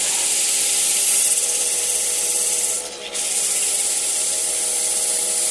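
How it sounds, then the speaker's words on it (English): Sandpaper rubbing against a spinning wooden salt cellar box on a woodturning lathe, a steady continuous hiss with a brief dip in the middle as the paper lifts away. "You can sand this till you're happy with it."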